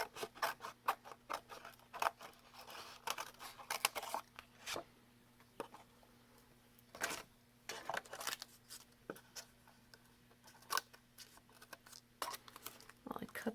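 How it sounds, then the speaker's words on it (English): Scissors snip pieces away in a craft project, with many short irregular cuts and rustles close by, some pauses between bursts of snipping. "Well, I cut these pieces away."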